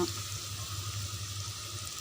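Onions sizzle in hot oil with tempering spices, a soft, steady frying hiss with a low bubbling undertone, faint and continuous with no talking.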